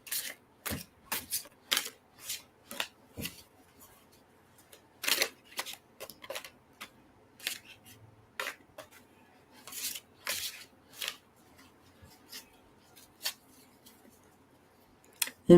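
A deck of tarot cards is shuffled by hand in a long run of crisp riffles and taps, irregular bursts coming close and clear with brief quiet gaps between them.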